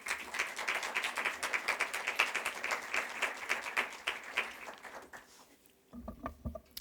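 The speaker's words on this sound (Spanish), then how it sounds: "Un aplauso," Audience applause at a Berlinale film market event, a steady round of hand clapping that fills the room for about five seconds before fading out as a voice begins.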